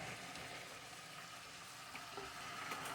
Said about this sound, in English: I've just got some bacon that I put in this skillet.